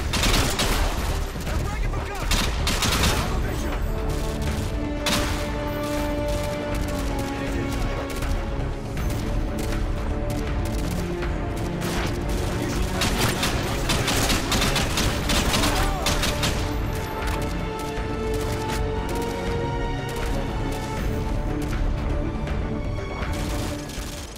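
Dense, loud gunfire from Call of Duty: Modern Warfare 2, with sustained automatic bursts and rapid rifle shots over a firefight, explosions and crashes mixed in, and voices talking amid the shooting.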